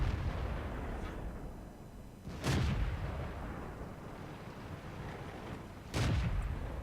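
A tank gun in the World of Tanks video game fires two loud, sharp booms about three and a half seconds apart, each with a short rumbling tail, over a steady low engine and battle ambience.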